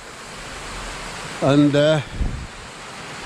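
Steady broadband rush of river water pouring over a weir on the River Wharfe, continuous and fairly loud outdoors, with a voice briefly speaking over it.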